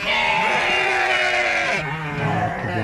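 Goats on a goat farm behind a house bleat loudly and continuously, several overlapping calls forming a noisy chorus up close, the animals hungry and not yet fed.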